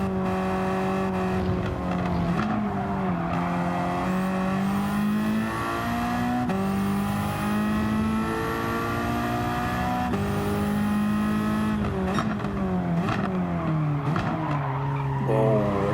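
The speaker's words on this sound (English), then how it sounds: "Let's just listen to this car as it runs through the rest of the lap. It just sounds amazing." Backyard-built Ford Focus race car running a lap, its engine howling loud and close, with pitch climbing through each gear and dropping at the shifts, plus tire squeal, continuous for the whole stretch.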